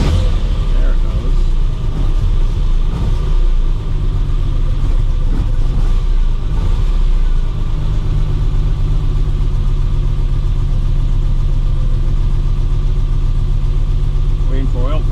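A car engine catches and revs with a rising roar, then settles into a steady, loud idle, with someone talking over it early on.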